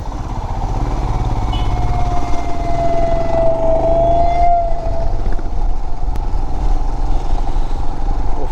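A motorcycle rides uphill through hilly country between Siliguri and Darjeeling, its engine droning loud and close and steady with a rising whine, no talk over it.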